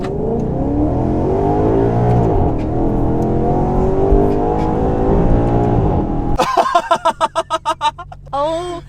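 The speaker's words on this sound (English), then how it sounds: "Naturally aspirated V8. Maserati Granturismo. 0 to 60." Naturally aspirated V8 of a manual, rear-wheel-drive Maserati GranTurismo in sport mode, accelerating hard from a standstill: loud, rising engine roar for about six seconds, then sharp pulsing revs and quick gear changes up close.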